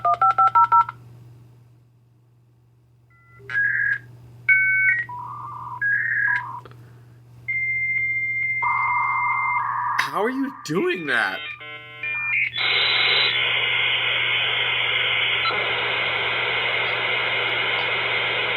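A person vocally imitates the screeching, beeping handshake of an AOL dial-up modem, producing a rapid string of tones, chirps and hissing static that runs loud and continuous for several seconds, with brief speech in the clip.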